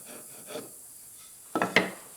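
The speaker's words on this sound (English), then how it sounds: "in a sawing motion, we're going to go ahead and clean off the excess" Wood rubbed in a sawing motion against a freshly cast bronze socketed axe, giving a few short rasping scrapes, one faint early pass and then a louder close burst near the end.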